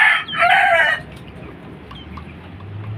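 A farm chicken lets out a loud, close rooster crow lasting about a second, then the yard falls quiet with faint low clucks and background noise.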